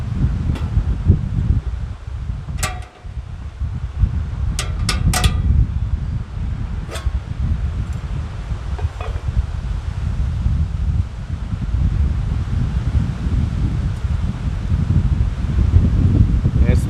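Outdoor wind buffeting around a lit Toogoo kerosene stove, a loud continuous rush and rustle for the whole stretch with a few brief clicks and taps near the start.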